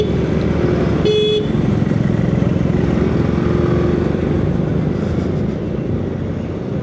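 A loaded scooter with luggage on the back rides along a road from Guntur toward Konaseema, its engine and the wind roaring steadily up close while a short horn toot sounds near the start.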